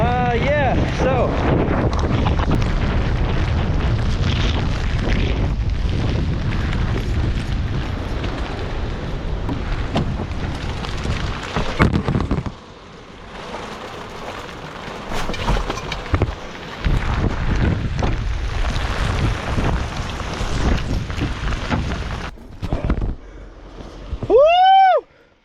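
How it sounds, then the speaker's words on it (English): Heavy rain and high wind outdoors at a park make a loud, continuous roar of wind buffeting the microphone, easing briefly midway before surging again. "just got way too heavy of rain all of a sudden"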